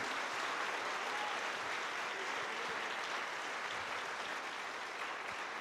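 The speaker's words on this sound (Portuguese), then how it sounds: "Vamos aplaudir a Ele" A church congregation applauds during a sermon, a steady, even roar of many hands clapping together, heard at a distance and fairly faint, with no voices standing out.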